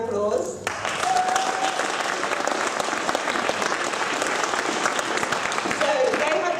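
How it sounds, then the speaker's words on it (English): A conference audience breaks into sustained applause, a dense, loud wash of clapping that starts abruptly after a voice and holds steadily for several seconds. "could I ask you to stand up and get a round of applause"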